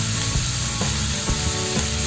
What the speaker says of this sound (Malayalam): ഇനി നന്നായി ഇളക്കി കൊടുക്കാം.